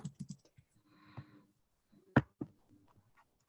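Keys on a computer keyboard are typed in a short burst of soft clicks, followed by a couple of sharper isolated taps, recorded close in a quiet room with no talking.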